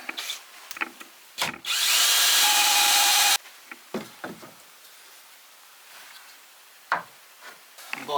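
Power drill driving a screw into wood while framing a stud wall in an old building, one loud sustained whirring burst of about two seconds amid scattered knocks and handling clatter.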